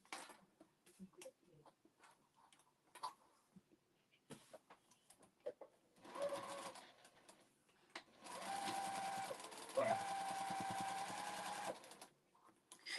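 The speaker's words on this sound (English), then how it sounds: "We're just going to sew all the way around, and then the head will be done." A sewing machine stitches around a fabric teddy bear's head, first in short starts and stops, then in a longer continuous whirring run that slows, surges and halts near the end.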